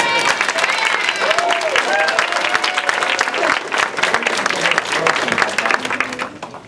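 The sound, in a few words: audience round of applause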